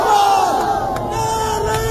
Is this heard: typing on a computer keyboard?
no